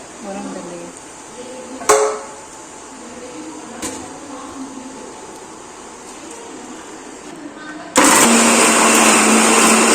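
A kitchen mixer grinder in a village home grinds chutney for idli, roaring on loudly and steadily for the last couple of seconds after a stretch of quieter background noise with a few clicks.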